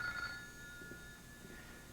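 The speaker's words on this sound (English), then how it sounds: "Can I answer that phone call, please?" A telephone rings faintly in a room, a thin electronic ring heard at low level against a quiet, hushed background, with a few soft bumps following.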